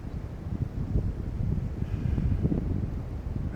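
Wind blowing outdoors, buffeting the microphone as a low, rumbling, gusty roar that rises and falls without any voices.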